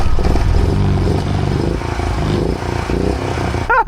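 A small BMW car engine revs close by with a clattering, uneven drone that rises and falls over several seconds, ending in a brief sharp scrape-like burst.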